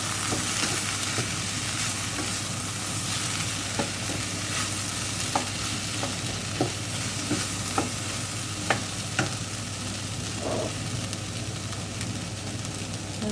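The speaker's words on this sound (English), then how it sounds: "And give that a stir." Sausage and bean casserole with garlic and thyme sizzles continuously in a pan, with a spoon scraping and tapping now and then at close range and no talking.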